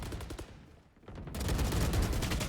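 Gunfire erupts in the first-person shooter Valorant: a burst of shots, a brief lull, then a denser volley of rapid fire, loud and close.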